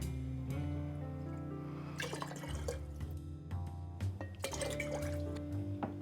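Red wine vinegar and apple cider vinegar poured into a container for a cherry shrub, with a continuous liquid trickle and splashing up close, shifting in pitch as the vessel fills.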